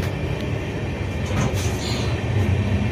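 Inside a general coach of the Balurghat-Sealdah Express while running, a loud continuous rumble of wheels and carriage rattle with faint clanks, no voices.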